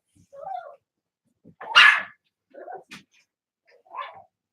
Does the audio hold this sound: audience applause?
no